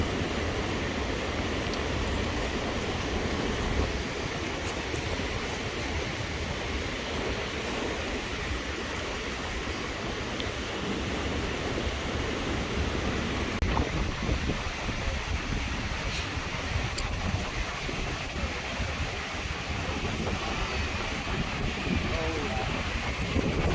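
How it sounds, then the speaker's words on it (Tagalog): Strong wind buffets a tent beside a lake, a continuous loud rushing roar with flapping gusts that never lets up. "Sobrang lakas ng hangin."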